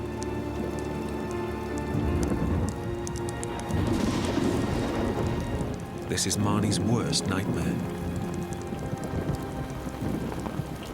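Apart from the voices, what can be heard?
heavy rain in a storm on a mountain cliff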